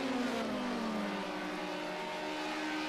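Touring car engines in a video game race drone steadily and loud, a high whining note sliding slowly downward as the cars run through the slipstream, with no voices over it.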